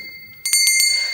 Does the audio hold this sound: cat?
no